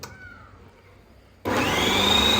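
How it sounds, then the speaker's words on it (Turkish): A food processor whirs loudly as it blends cheese with salt and a splash of whey for homemade cream cheese, switching on abruptly after a quiet pause and running steadily. "Güzelce robottan geçir."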